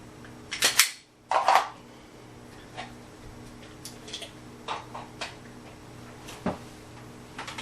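Handgun speed reload: a couple of loud, sharp metallic clacks close together near the start, followed by softer scattered clicks and handling noises.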